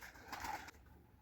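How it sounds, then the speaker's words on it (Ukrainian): Pigeons cooing in a dovecote during evening feeding, a brief soft coo rising and then cutting off, faint and close, with quiet background noise. "Зараз буду годувати голубів"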